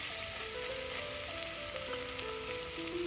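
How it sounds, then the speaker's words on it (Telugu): Onions fry in a Dutch oven for vegetable dum biryani, with a constant, even sizzle and fine crackling heard close up and alone, without voices. "ఆనియన్స్ ఫ్రై అవ్వడానికి ఫ్యూ మినిట్స్ పడుతుందండి"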